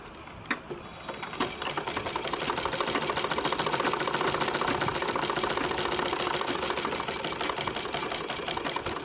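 Close-up domestic sewing machine sewing a half-inch seam, its needle clattering in a rapid steady rhythm that builds up and runs continuously throughout.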